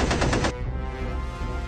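A rapid machine gun burst from a B-17 bomber combat game rattles loudly for about half a second, then cuts to a steady low background rumble.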